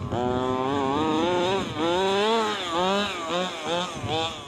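HPI Baja RC car with a small gas engine revving, its buzzing two-stroke note rising and falling through several throttle blips, loud and close, with no talking.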